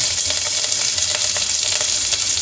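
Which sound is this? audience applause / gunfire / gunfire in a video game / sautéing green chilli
sautéing green chilli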